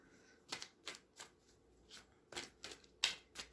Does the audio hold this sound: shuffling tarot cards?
yes